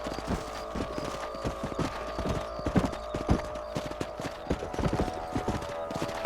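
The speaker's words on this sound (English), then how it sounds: "Let's get back on the horses and see what else is going on." Horse hooves clip-clop in the Red Dead video game, a steady rhythmic trot of several horses with a constant low ambient hum underneath.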